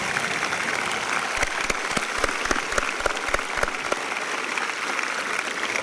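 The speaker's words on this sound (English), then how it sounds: "Please give all of these students a round of applause at this time." A graduation audience applauds the students at a high school ceremony, steady dense clapping from a large crowd with a few louder sharp claps standing out, filling the whole stretch.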